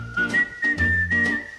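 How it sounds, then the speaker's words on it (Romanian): A single person whistles a short tune, a few clear sustained notes in quick phrases, close and alone. "fluierând pe stradă"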